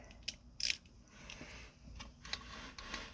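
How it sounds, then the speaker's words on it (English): A regular ratchet snugs 10 mm bolts during assembly of a Predator 212 small engine, giving a few close, quick clicking and metallic bursts amid quiet workshop noise, with no talking. "I'm just going to slightly snug them with a regular ratchet"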